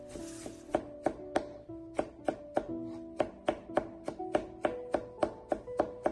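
A knife chops an onion into small dice on a board, a steady run of close, crisp, evenly paced thuds with no talk.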